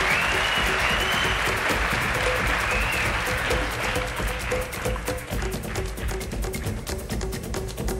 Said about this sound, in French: Mesdames, messieurs, Lorena, sous vos applaudissements, attention, c'est parti.